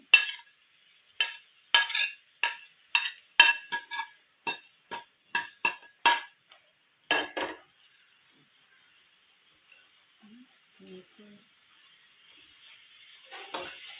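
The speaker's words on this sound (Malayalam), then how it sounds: "എണ്ണ ചൂടായി വന്നിട്ടുണ്ട്. അതിലേക്ക് ഇതേ നമ്മൾ നേരത്തെ ക്രഷ് ചെയ്ത് വെച്ചില്ലേ ആ ചിക്കൻ ഇട്ട് കൊടുക്കുകയാണ് കേട്ടോ." Crushed chicken for chicken thoran fries in hot oil as a utensil strikes and stirs the pan in a quick, regular series of sharp metallic scrapes, leaving a soft sizzle that carries on after the stirring stops.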